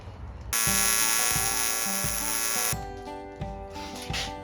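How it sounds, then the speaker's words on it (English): An electric drill whines loudly while drilling out a scrap metal oil breather part for a Triumph Bobber, a steady high-pitched run that drops to a lower, uneven motor hum. "Just got to drill that out."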